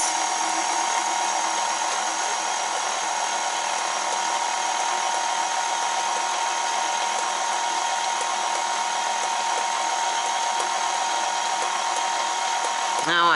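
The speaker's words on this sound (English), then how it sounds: "now I'm going to put my mixer down, lock it, and I'm going to start it off on low" Cinnamon-colored electric stand mixer running on low speed, a steady high-pitched motor whine held evenly throughout.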